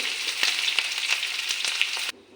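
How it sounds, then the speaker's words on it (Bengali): Onions frying in a pan until reddish-brown, a steady close sizzle with small crackles and occasional stirring clicks, cutting off abruptly near the end. "পেঁয়াজটা একটু লাল লাল করে ভাজা করে নিই"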